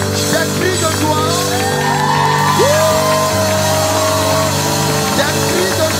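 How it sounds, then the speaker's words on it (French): A church congregation at a Sunday worship service shouts for joy, loud and sustained cries and whoops from a crowd over steady tones and voices throughout. "Des cris de joie."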